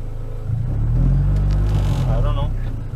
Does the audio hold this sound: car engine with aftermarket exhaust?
yes